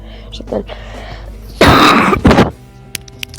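A sick person's harsh throat clearing followed by a second quick cough, close and loud, after a few soft mouth noises and breaths.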